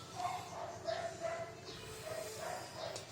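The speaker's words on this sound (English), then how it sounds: "there's a lot of dogs outside. You will hear a lot of bark" Dogs barking outside in the distance, faint repeated barks and yips in an irregular series, heard through a quiet indoor baking session.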